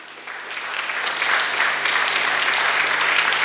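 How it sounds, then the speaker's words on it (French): A crowd applauds at a church children's school gathering to honour students promoted to the next class, the clapping swelling quickly into sustained, dense applause. "je veux qu'on donne une forte acclamation à tous les admis"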